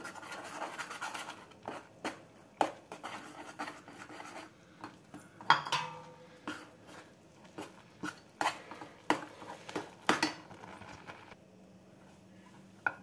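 A spoon scrapes and taps around a pot while flour is stirred bit by bit into boiling milk for a jaggery milk-dumpling sweet, in a series of uneven, fairly close strokes with short pauses between them.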